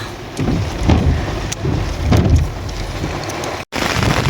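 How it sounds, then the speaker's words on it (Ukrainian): Steady rain patters and hisses close by, with gusty low rumbles and a brief dropout near the end. "Ось такий дощик гарний йде,"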